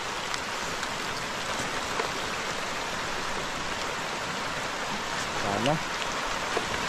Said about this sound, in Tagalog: Ulan-ulan mga katropa.